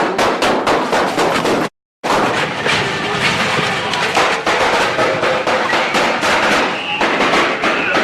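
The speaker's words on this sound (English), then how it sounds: "Why don't we hear a little bit of the gunfire down at Little Rock?" Rapid bursts of gunfire at Little Rock, dense overlapping sharp cracks and pops in a steady stream, loud and close, broken by one short silent gap.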